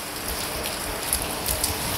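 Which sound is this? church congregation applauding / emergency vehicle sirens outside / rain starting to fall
rain starting to fall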